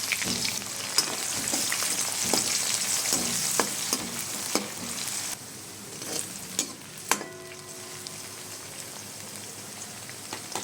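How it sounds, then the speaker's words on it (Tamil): Chopped onions with garlic sizzle and crackle steadily in a hot pan while frying for a taro root kara kuzhambu, with occasional stirring clinks; the sizzle softens partway through. "ஸோ ஆனியன் சேர்த்துட்டு நம்ம வந்து நல்லா ஃப்ரை பண்ணிடலாம்"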